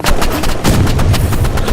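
Rapid automatic gunfire from an auto gun in the Roblox game Rivals, a dense loud burst of repeated shots filling the whole stretch with no pause.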